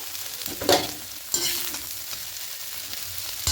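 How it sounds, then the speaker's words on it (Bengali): Soybean chunks frying in hot oil in a wok, a continuous close sizzle with a few louder stirring scrapes and clatters breaking through. "প্রথমে সোয়াবিনটাকে ভেজে নেবো"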